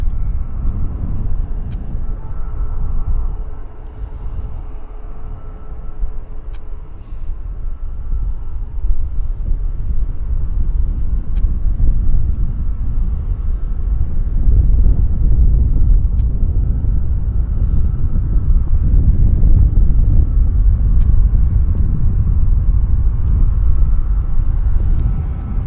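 A WestJet airliner rolls along the ground at Vancouver Airport, giving off a steady low engine rumble with wind noise that builds gradually and holds loud and continuous, with no voices.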